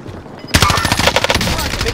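Dense bursts of rapid gunfire from Call of Duty: Warzone Resurgence mode erupt suddenly after a quiet half second, continuing loud and close as overlapping rattling shots for the remaining time.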